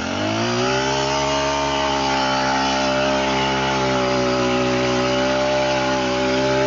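A backpack-mounted multi-tool machine fitted with a weeder head cuts through overgrown, dirty grass, its small engine revving up and then holding a steady, loud, close whine with a buzzing edge for the whole stretch.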